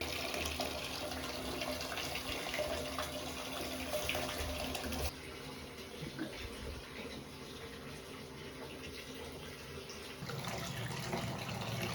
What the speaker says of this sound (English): And I'm going to run myself a bit of a bath.